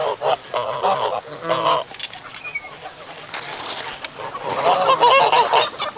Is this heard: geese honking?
yes